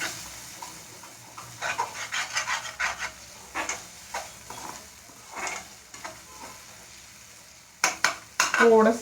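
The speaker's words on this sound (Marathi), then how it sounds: "एकदम असं टोमॅटोला गाळ गाळ करायचं आहे" Tomatoes cooking down to a mush in a pan for a spring onion dish, with soft intermittent stirring and scraping, quiet sizzling, and a few louder clanks of the spoon at the end.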